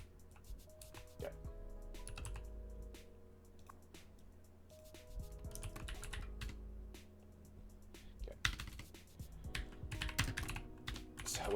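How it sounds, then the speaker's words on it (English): Fingers type steadily on a mechanical keyboard with clicky keys, a quiet, close patter of keystrokes. The typing runs in bursts with brief pauses over a faint background hum. "Yes, I have mechanical keys, so you're going to hear me type."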